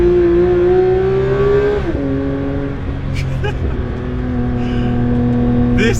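Porsche 992 GT3 RS engine revving loudly inside a tunnel, a sustained high-pitched wail that climbs, drops sharply as a gear changes, then holds steady with echoing roar throughout.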